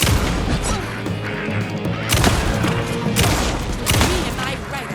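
Gunfire from the Alan Wake 2 video game cracks in repeated loud shots over a dense, busy game soundtrack, with a voice speaking at times.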